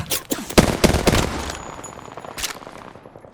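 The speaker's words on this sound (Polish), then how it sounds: "Ostrzeliwuję pozycję wroga." Rapid bursts of loud machine gun fire in the video game Apex Legends crack in quick succession, then trail off into a fading echo with one more sharp shot near the end.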